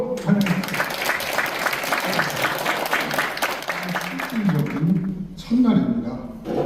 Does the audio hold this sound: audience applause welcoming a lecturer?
yes